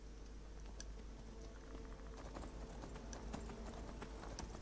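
Shadowmere, the Daedric horse in Skyrim, clip-clops along in a fast, even hoofbeat rhythm, moderately close over a steady background hum with no talk.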